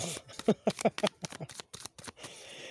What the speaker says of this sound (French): Ça, c'est des cartes dans un jeu des enfants.